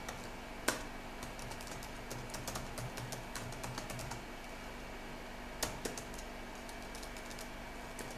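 A command is typed on a computer keyboard during an Arch Linux installation. Quick bursts of close, light key clicks sound over a faint steady hum, with two louder single key strikes standing out.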